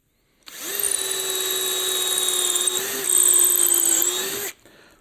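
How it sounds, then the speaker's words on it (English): An electric drill bores into wood while building beehive pallets, a steady high whine that starts abruptly, runs for about four seconds with a slight drop in pitch under load, then stops. "I think I might need a bit more extreme drill than this bloody thing"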